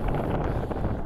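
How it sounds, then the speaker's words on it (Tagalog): Strong wind buffeting the microphone near a playground at Lake Balboa, a continuous low roaring rumble for the whole short moment. "Ang hangin, guys."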